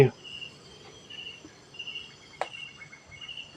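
Crickets and other insects chirp steadily on a quiet rainy-season night in rural forest countryside, with a brief knock partway through.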